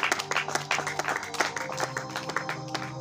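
A church congregation claps and applauds for the Lord, a quick ragged patter of many hands with sharp overlapping slaps that carries on steadily throughout.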